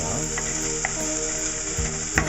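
Carrots, onions and garlic sizzle steadily in a hot pan while being stirred, a constant bright frying hiss with a few soft scrapes and knocks from the utensil, close and alone.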